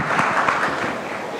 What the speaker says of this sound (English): 4-time MP, round of applause.